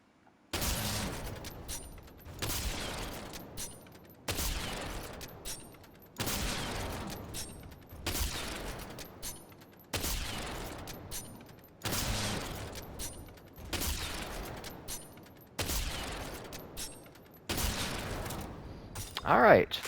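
Bolt-action sniper rifle in a video game firing about ten loud, evenly spaced shots roughly every two seconds, each a sharp blast with a decaying tail and bolt-cycling clatter, fitted with a reload-speed mod.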